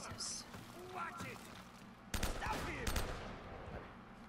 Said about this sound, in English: Bullets are coming at my head.